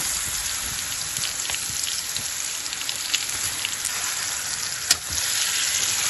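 Ripe plantain pieces fry in melted ghee, giving a steady, close, hissing sizzle throughout with a few small pops and crackles and no talking.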